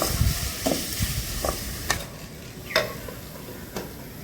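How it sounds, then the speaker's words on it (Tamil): Onions and spices for vadacurry sauté in a pan, a soft steady sizzle broken by several sharp clinks and scrapes of a spoon stirring against the metal, with no talking. "கொஞ்சம் நல்லா இது வதங்கட்டும்."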